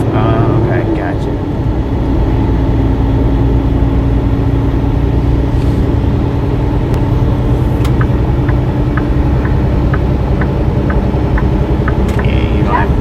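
A truck engine runs while driving on a trip from Ririe, Idaho toward Florida, with a steady loud drone and vibrating low rumble throughout, a voice talking over it.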